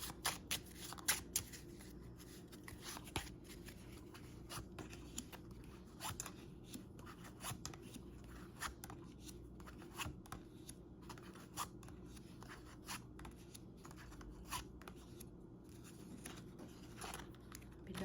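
Playing cards are shuffled close by, soft papery riffles and snaps repeating quietly over a low background hum.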